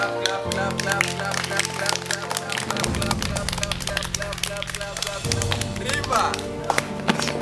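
Schoolchildren clap their hands together during the River Bank game, a brisk run of overlapping claps at close range with voices and other sounds mixed underneath.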